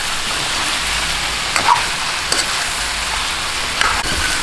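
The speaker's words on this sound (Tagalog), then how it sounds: "magisa-gisa at mag-light brown itong ating pork bago natin sabawan" Pork sautéing and being stirred in a hot pan for Filipino adobo sa asin, a steady close sizzle broken by a few soft scraping clicks from the stirring.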